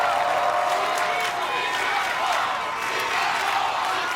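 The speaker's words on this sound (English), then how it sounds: "The crowd erupting here." Crowd at an American Ninja Warrior qualifier in Orlando cheering loudly and continuously, a steady dense roar with whoops and clapping mixed in, an announcer's voice faintly under it.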